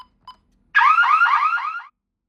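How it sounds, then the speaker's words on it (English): Radionics D9412G alarm panel sounding a panic alarm in a house: a loud, continuous warbling electronic tone of about one second, rising in repeated sweeps, preceded by two faint short beeps. "And we'll just do a panic."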